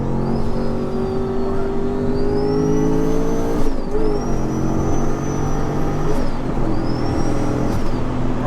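A rear-mounted turbo 730 bhp V8 Audi RS4 with a manual gearbox accelerates hard, its engine note climbing steadily before dipping briefly at each gear change, loud and continuous from inside the car with a turbo whine riding on top.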